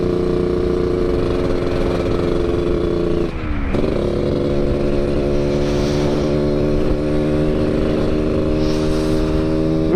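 Yamaha RX King 2004 motorcycle with an under-belly exhaust, its two-stroke engine loud and close, revved steadily with a brief dip in throttle before climbing back to a sustained, buzzing rev.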